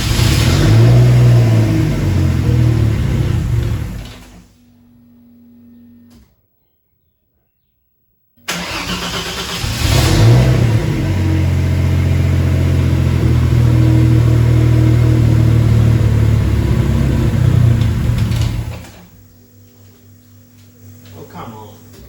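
A Mercedes W203 turbo car, worked on for oil leaks, cranks and fires up after a short silence, then runs with rising revs for about ten seconds before dropping away, with a voice heard near the engine.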